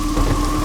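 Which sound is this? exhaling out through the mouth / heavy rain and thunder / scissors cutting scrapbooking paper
heavy rain and thunder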